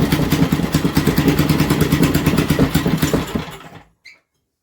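A small Briggs & Stratton petrol engine chugs with a rapid, even knocking rhythm, running loudly for a few seconds before cutting out and falling silent.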